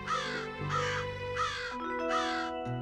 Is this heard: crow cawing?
yes